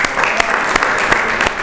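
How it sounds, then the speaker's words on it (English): Loud crowd applause with a few sharp individual claps standing out, continuous and close. "Give her a round of applause one more time"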